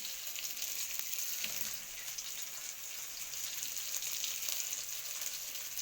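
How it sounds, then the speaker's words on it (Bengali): Rohu fish pieces, from a large 5 kg fish, fry in a pan with a steady, dense crackling sizzle that holds evenly throughout, close by and with no voices. "এখানে দেখতে পাচ্ছ মাছ ভাজা"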